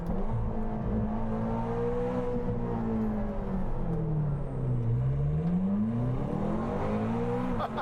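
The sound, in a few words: sports car with aftermarket exhaust accelerating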